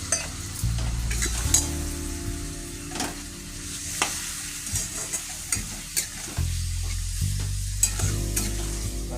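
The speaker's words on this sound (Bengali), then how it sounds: "ভালো করে ভেজে নিতে হবে মশলাগুলোর সঙ্গে।" Coriander and cumin powder with a splash of water fry in a pan for chole, a constant sizzle broken by repeated scraping stirs and occasional utensil clinks.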